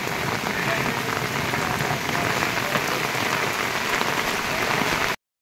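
Rain pours steadily over a West Bengal village with thatched roofs, a dense, even hiss of drops that holds at the same level throughout and stops abruptly at the end, with no voices.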